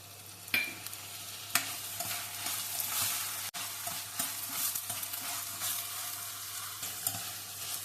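Washed peas are stirred into a semiya mixture frying in a pan, a steady sizzle with occasional scraping knocks of the spoon.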